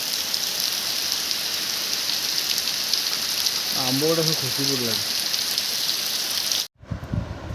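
Steady heavy rain hisses throughout, with a voice speaking briefly in the middle; the sound cuts off abruptly near the end.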